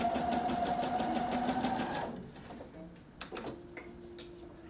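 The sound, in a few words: sewing machine stitching a belt loop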